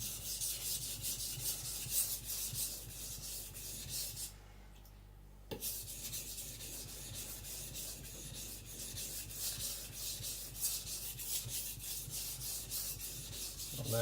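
A high-speed powder steel gyuto, a Sakon Ryuga, is thinned on a Shapton Glass 220 whetstone, giving a close, continuous scraping rasp in rhythmic strokes with one brief pause midway.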